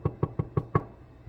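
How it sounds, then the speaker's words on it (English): Knocking on a door: five evenly spaced, sharp knocks in quick succession, fairly close and distinct, then a brief quiet pause. "Knocks on the door."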